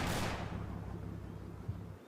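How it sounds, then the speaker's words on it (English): Mortar round exploding in the wargame Combat Mission: Battle for Normandy, a single heavy blast at the start that decays into a long low rumble and fades, heard alone without talk. "damn good mortar"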